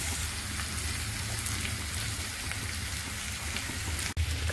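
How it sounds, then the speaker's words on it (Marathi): Onion frying in oil in a pan, a steady dense sizzle with crackling throughout, close and fairly loud, with one brief dropout near the end. "कांदा तेलात फ्राय करून घ्यायचा आहे."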